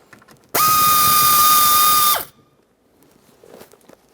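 A single loud burst of about a second and a half from a power ratchet spinning out the last mounting bolt of an HVAC mode door actuator on a 2007-2013 Acura MDX, followed by quiet handling noises.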